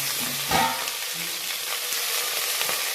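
Chillies and raisins roast in hot oil for a Kashmiri pulao, giving a soft, continuous sizzle with a few faint stirring clinks and no talk.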